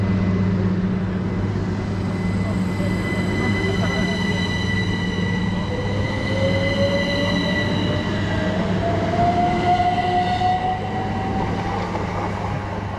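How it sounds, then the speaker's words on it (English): Great Western Railway electric train 387 301 pulling out of a station, a steady rumble and rising motor whine building over about thirteen seconds, with faint speech nearby. "So there goes 387 301 heading over on the 1418 Great Western Railway service to Reading"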